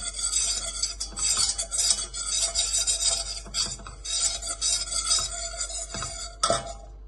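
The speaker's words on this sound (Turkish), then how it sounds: "Onu tencereye alıyorum. Un kokusu çıkana kadar kavuracağım." A utensil scrapes and stirs flour roasting in a pot, steady and continuous gritty rasping with occasional metallic clinks, no voices.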